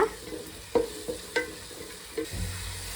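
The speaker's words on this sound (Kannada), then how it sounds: "ಶುಂಠಿ ಬೆಳ್ಳುಳ್ಳಿ ಪೇಸ್ಟನ್ನು ಎಣ್ಣೆ ತುಪ್ಪದಲ್ಲಿ 1-2 ನಿಮಿಷ ಚೆನ್ನಾಗಿ ಫ್ರೈ ಮಾಡೋಣ" Ginger garlic paste frying in oil and ghee for ghee rice, a soft steady sizzle with several distinct spoon clinks and scrapes against the pan at irregular intervals.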